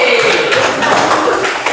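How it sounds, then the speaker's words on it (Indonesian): A classroom of young students clapping together for a classmate during a lesson, with dense, steady applause filling the short moment at close range. "Tepuk tangan buat siapa ini namanya?"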